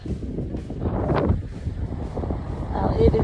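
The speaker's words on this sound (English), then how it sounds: "It is definitely windy here on Whitney Beach" Strong gusty wind buffets the microphone in a steady low roar on Whitney Beach, Florida, with faint voices and brief sounds underneath.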